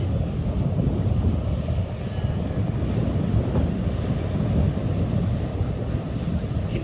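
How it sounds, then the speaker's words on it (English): Strong wind blows across the deck of a ferry leaving Departure Bay, a loud continuous low rumble and buffeting on the microphone with rushing water beneath, and no talking. "Can you hear the wind?"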